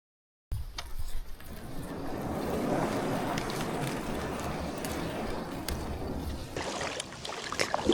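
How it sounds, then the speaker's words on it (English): A kayak moves out across open water on Lough Erne, with a steady wash of water and wind and a few soft splashes or knocks from paddling, all fairly close and fairly quiet. "So I'm heading back out in the kayak, do a bit of fishing."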